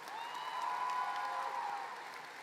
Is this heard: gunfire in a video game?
no